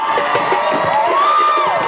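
Crowd at a fire show screaming and cheering loudly together in a short, close burst, with high children's shouts and one sustained rising scream above the mass of voices.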